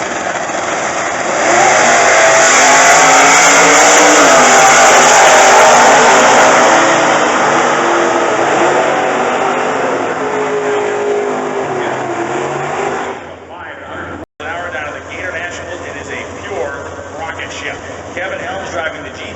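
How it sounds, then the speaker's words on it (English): Drag race cars, among them a 2012 COPO Camaro with a supercharged 327 LS engine and automatic transmission, roar loudly down the strip during a sportsman qualifying run. The engines fade after about thirteen seconds and an announcer talks over the track noise. "2012 Copo Camaro with a super stock V automatic V327 LS combo, and Brett Candies from Thibodaux, Louisiana"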